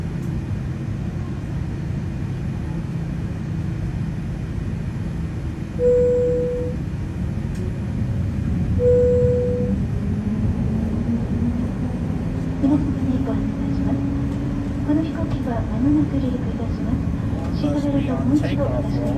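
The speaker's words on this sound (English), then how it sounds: "Takeoff roll." An airliner on its takeoff roll heard from inside the cabin, a loud steady rumble of engines and runway noise throughout, with brief tones and a rising pitch later as speed builds; voices talk over it.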